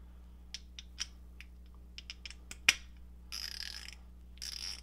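A Nepros ratchet fitted with a spinner gives a series of faint, close, sharp clicks with irregular spacing and one louder snap, followed by brief bursts of hiss.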